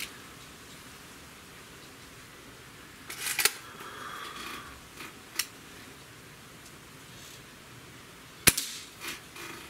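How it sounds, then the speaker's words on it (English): Umarex Throttle air rifle fired a few times, each shot a sharp isolated crack at moderate volume, two clustered early and another near the end, with faint handling noise between them and no talking. "I'm not saying anything until I'm done shooting here."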